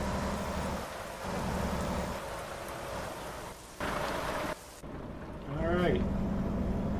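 Steady rain pours down while driving a truck in American Truck Simulator, a dense hiss lasting throughout with a few brief gaps and rising tones near the end.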